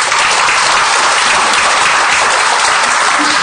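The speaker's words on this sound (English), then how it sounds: "do you think he deserves a much bigger applause?" An audience at a coaching session gives loud, sustained applause, a dense wash of many hands clapping together with no gaps.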